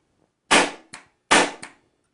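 A Tippmann Phenom paintball gun fitted with a TechT Fang trigger fires twice, each loud, sharp pop followed by a softer secondary crack, the pairs separated by a short pause.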